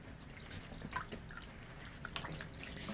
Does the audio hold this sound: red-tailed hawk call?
no